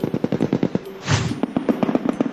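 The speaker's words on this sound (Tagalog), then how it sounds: "Sunod-sunod na nagpakawala ng putok ang mga sundalong Amerikano gamit ang HIMARS." Live fire during a joint Philippine and US Marines military exercise: a rapid string of sharp, loud cracks in quick succession, with a heavier blast in the middle, and no voices.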